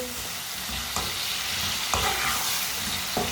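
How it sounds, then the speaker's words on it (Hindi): Raw tomato curry fries in a pan while a spoon stirs it, a steady sizzle broken by sharp scraping strokes roughly once a second, close up and without talk. "ऐसे ही चम्मच चलाते हुए इसे पकाना"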